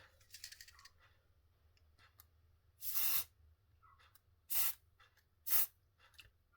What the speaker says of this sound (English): spray a bit of that in all the axles